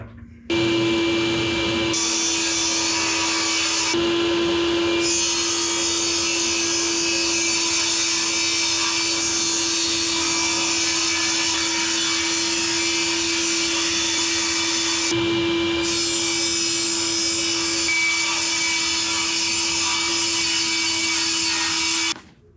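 A power saw rips 3/4 inch plywood into 5.5 inch strips for a cedar strip canoe strongback. It whines loud and steady, close by, with brief dips between passes and no voices.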